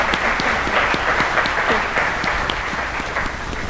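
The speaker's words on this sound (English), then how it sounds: "Really big round of applause for this team of people" A big round of applause from a conference crowd at a contributor summit, with many hands clapping steadily at a fairly loud level and scattered individual claps standing out throughout.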